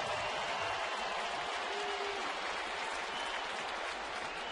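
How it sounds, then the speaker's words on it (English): A baseball stadium crowd applauds a Yankees hitter at a Chicago at New York game in April 2010, a steady, dense wash of clapping and cheering that holds at even strength throughout with no talk over it. "Crowd at the stadium gives Cano a big hand."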